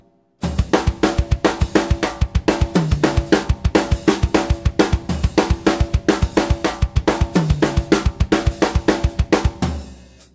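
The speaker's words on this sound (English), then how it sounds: "I will now play the one of the 4/4 measures with my feet on the floor tom and then on the first tom" Continuous rapid drumming alternating between low floor tom and higher tom, a steady stream of loud, close hits with cymbal wash, no voices.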